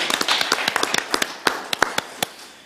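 Scattered hand claps from a small group at an online awards ceremony, a quick run of sharp, uneven claps that thins out and fades near the end.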